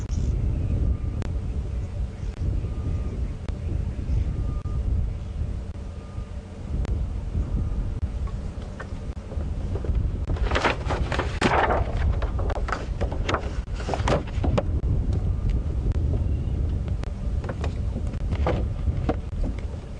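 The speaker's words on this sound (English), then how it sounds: "The wind's picking up." Wind buffets the microphone during an evening safari drive at Djuma and Arathusa Game Reserve as a constant low rumble throughout, with brief voices and radio chatter partway through.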